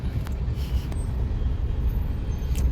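Road traffic in a congested street, a dense low rumble of engines with buses passing and a couple of brief hissing air brake releases, heard from close by.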